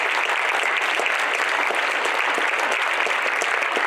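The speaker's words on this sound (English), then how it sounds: "please join me in applauding all of our staff and students that joined us for our first school" Audience applause for school staff and students at an evening school showcase, a dense, steady wash of many hands clapping continuously throughout, loud and unbroken, with no talking over it.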